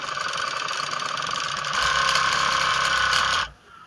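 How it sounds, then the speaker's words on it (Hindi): An overlock sewing machine runs and stitches fabric with a loud, even mechanical whir and rapid ticking that rises slightly partway through, then cuts off abruptly near the end. "दोस्तों मशीन का पावर हमने ऑन कर लिया है और अब इसको हम चला के देखते हैं"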